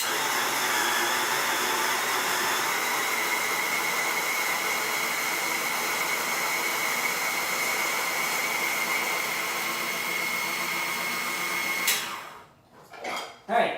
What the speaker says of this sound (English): Alright, grind this up.